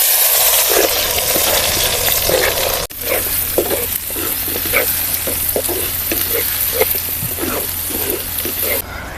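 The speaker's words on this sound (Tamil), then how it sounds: "அடுத்தா நம்ம நறுக்கி வச்சிருந்த வெங்காயத்தை போட்டுக்குவோம்." Chopped onions tossed into hot oil for a village-style brinjal curry hiss in a loud, steady sizzle, with stirring scrapes and crackles running throughout.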